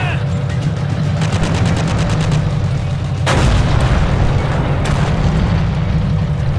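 Tank bow machine gun rattling off a rapid burst in the World War II video game Forgotten Hope 2, set in the Falaise Pocket, with a booming blast midway amid loud continuous battle noise and engine rumble.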